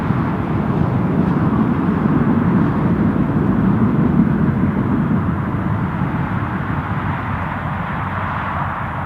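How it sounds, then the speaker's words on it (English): A Ryanair flight from Barcelona comes in to land at Newcastle Airport, a steady broad jet roar holding loud and close for the whole stretch with no voices over it. "Barcelona Ryanair flight arriving"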